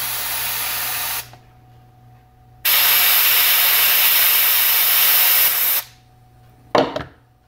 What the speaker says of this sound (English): what I'm doing is I'm spraying onto the paper